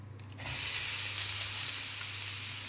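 Garlic drops into hot oil and starts sizzling at once, a sudden loud hiss that holds steady and close, with no talk.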